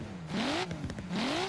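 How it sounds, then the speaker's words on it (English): A Volvo 850R built as a sleeper drift car in Forza Horizon 3 revs its engine twice, each rev climbing in pitch then dropping, with a rumbling exhaust between. "Let's get a little exhaust clip here before we get going."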